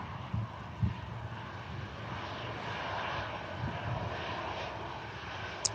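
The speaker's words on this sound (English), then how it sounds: "Ryanair on the way out to Budapest" A Ryanair airplane departs Manchester Airport for Budapest, its engines a steady, distant roar that swells gently and holds under light wind noise.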